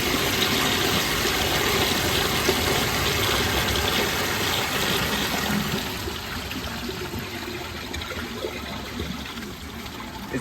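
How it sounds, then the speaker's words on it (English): A brand new round Glacier Bay Power Flush toilet flushes on a mid tank, giving a continuous loud rush of water that eases slightly after about six seconds and keeps gushing to the end, with no talking. "today I will be flushing my brand new round Glacier Bay Power Flush toilet on a mid tank"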